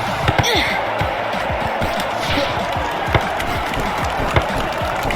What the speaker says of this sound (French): on entend les applaudissements